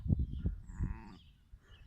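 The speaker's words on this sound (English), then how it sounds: "We've got guests today, sheep." Sheep bleat a few times close by in rural Ceredigion, short wavering calls in quick succession, with quiet background afterward.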